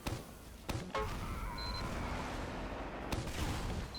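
Distant explosions from an airstrike rocket barrage in the video game Team Fortress 2 come as a few sharp, faint booms over a busy background of game noise.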